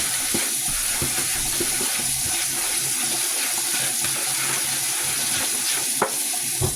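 Tap water runs in a home kitchen during cooking, a steady broadband hiss with scattered clinks and knocks from dishes, close and continuous.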